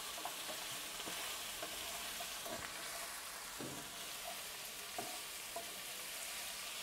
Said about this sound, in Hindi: गाजर के साथ हम 2 मिनट और गोभी को फ्राई करेंगे